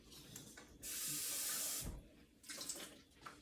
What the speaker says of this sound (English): I'm just going to rinse it out at the sink.